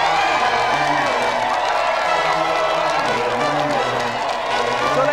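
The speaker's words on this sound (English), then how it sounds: "let's do another round of applause then" Studio audience on a television game show erupting in sustained applause and cheering, a dense wash of clapping and whoops holding steady at full loudness throughout.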